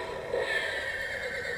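A horse whinnies briefly in the video game Borderlands 3 over a steady ambient background, the neigh moderately loud and close, with no talk.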